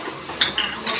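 Kitchen utensils being scrubbed and washed, with a few quick clinks and scrapes of metal dishes against each other in a short, close burst.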